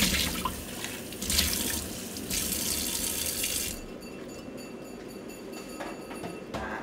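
Tap water gushing into a sink as vegetables are soaked, a loud steady stream that drops to a quieter trickle partway through, close by with no talk.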